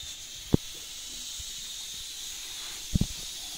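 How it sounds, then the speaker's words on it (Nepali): A continuous steam hiss from a pressure cooker boiling potatoes runs softly in the background, interrupted by a few sharp clunks and taps nearby. "आलु पाक्दैछ सिट्टीमा"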